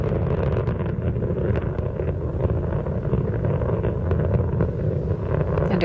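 Space Shuttle Endeavour's main engines and boosters thunder steadily during the STS-89 launch from Complex 39A, a continuous deep, broadband roar with wind-like rumble that stays loud and unbroken throughout.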